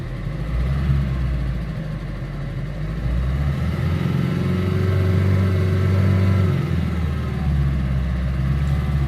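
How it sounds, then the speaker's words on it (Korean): A 2011 Kia Bongo III King Cab truck's steady engine rumble rises in pitch as it revs up, holds for a few seconds, then settles back to a low idle. "엔진 소리 한번 들어가 보겠습니다. 제가 동력을 높이겠습니다."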